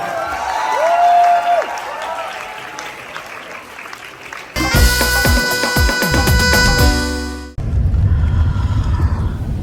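A theater audience at a Bahria University student show breaks into dense applause for roughly the last two seconds, after a stretch of loud music and a voice.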